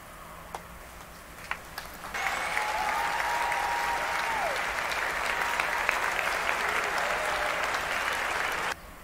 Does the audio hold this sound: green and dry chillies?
no